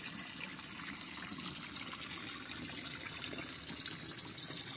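Continuous rushing water of a river, a steady broadband flow with no breaks and no voices.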